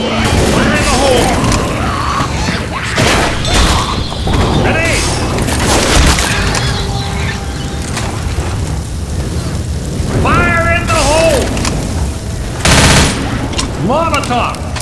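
Left 4 Dead gameplay with dense gunfire and booming explosions, including a grenade blast, mixed with shouted character voices and chaotic combat noise throughout, loud and close.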